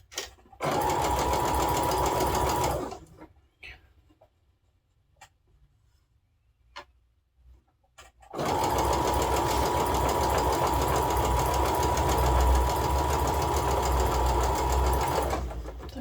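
A sewing machine runs steadily as fabric is fed under it, with two long, even bursts of stitching close up, separated by a few seconds of near silence with faint handling sounds.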